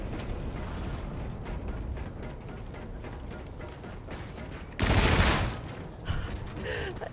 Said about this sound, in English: That shotgun, though.